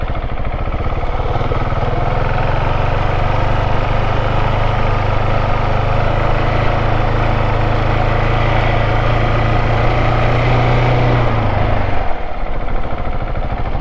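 Steady single-cylinder thump of a KTM 690 SMC R supermoto held at low revs while leaning at very low speed, a continuous close engine drone that drops off abruptly near the end.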